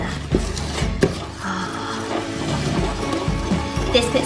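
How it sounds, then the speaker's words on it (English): A spoon scrapes and stirs batter against the sides of a mixing bowl, giving soft, irregular scrapes and a few light knocks, fairly close. "Then you can scrape off the sides and mix it all together."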